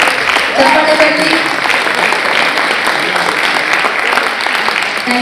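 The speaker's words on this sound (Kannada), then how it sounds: "ಚಪ್ಪಾಳೆ ಬರಲಿ." A theater audience at a senior couples' drama performance in a tent breaks into loud, sustained applause that stays even and continuous, with a voice speaking over the clapping near the start.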